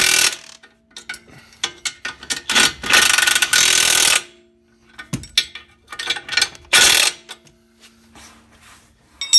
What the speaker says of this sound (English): we'll go ahead and get these bolts tightened up